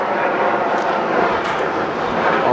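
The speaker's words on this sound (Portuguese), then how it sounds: "Vou pegar o avião." An airplane passes overhead above Vila Regina in Itaquera, São Paulo, making a steady, broad roar that holds at an even loudness throughout, with no talking.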